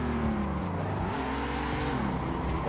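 Car drifting in a racing simulator game, engine revs rising and falling with tire squeal as the car slides through a corner, loud and continuous, no voices.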